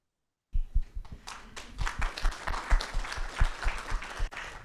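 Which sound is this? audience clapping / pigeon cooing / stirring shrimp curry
audience clapping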